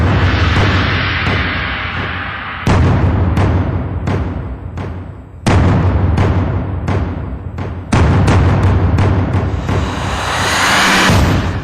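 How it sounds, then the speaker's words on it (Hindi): Repeated sharp bursts and heavy booms of cross-border firing by Pakistani Rangers, loud and close, arriving in irregular clusters over a constant rumbling background with no voices. "सीमा पार से पाकिस्तानी रेंजर्स गोलीबारी कर रहे हैं"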